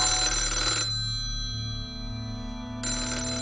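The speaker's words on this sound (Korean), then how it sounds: "전화 한 통이 걸려옵니다" A telephone ringing in two bursts of bright, steady electronic ringtone tones, separated by a quieter pause with a low hum underneath, loud and close with no voices.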